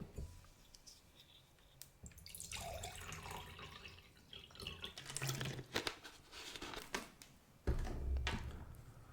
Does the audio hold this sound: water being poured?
yes